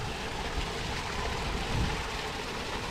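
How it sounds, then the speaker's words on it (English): Continuous low rushing of a small stream flowing under an old bridge toward the Woonasquatucket River near a storm drain, steady broadband water noise at moderate distance with a slight rumbling undertone, no talk. "you can see the stream leads down there to the greater Woonasquatucket River"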